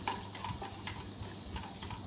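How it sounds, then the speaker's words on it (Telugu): Spoon scraping and stirring a tempering with salt and turmeric in a hot pan over medium flame, a soft background sizzle, with a few sharper clinks of metal along the way. "ఉప్పు పసుపు వేసి మరొకసారి తాలింపు అంతా బాగా కలిసేలాగా కలుపుకోవాలి"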